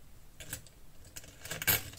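Coins are handled and dropped into a budget binder, making a few faint, quick metallic clinks and jingles close by over about two seconds, with no talk.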